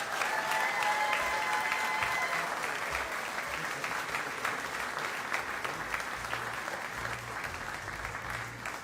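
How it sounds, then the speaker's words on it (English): Steady crowd applause fills an announcement event honoring a gift of towels, dense and sustained throughout at moderate distance, with faint tonal sounds early on. "round of applause with those towels"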